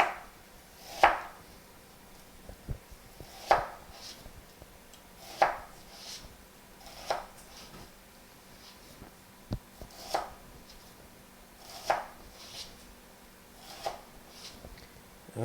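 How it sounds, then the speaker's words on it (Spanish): A knife slicing an onion thinly on a wooden board, making sharp, evenly spaced chops about every second and a half, close and distinct against a quiet background, with no voices. "yo pico aquí y la pico aquí bien delgada y después la volteamos"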